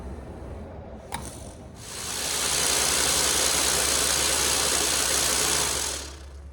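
A rock tumbler stonewashing a Civivi Plethiros knife blade churns with a constant loud grinding rumble and hiss that swells up after a quieter start and holds steady, with no talking.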